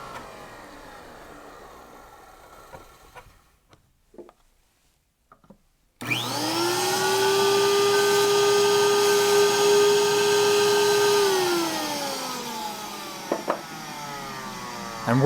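A vinyl record cleaning vacuum drying a record starts abruptly after a quiet lull with a loud, steady whining motor roar, holding constant before its pitch drops as it winds down, followed by a few clicks and handling knocks.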